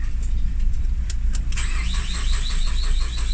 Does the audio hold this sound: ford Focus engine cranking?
yes